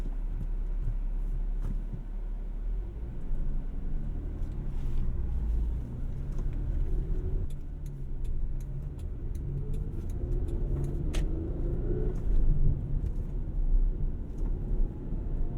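A 2001 Toyota Camry V6 with a manual transmission cruises along the road with a steady low engine rumble and tire noise, plus occasional faint ticks inside the cabin.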